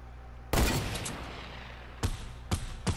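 Video game gunshots: one loud, sharp shot rings out near the start with a long decaying tail, followed by three shorter, quieter shots in the last second.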